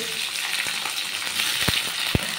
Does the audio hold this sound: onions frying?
yes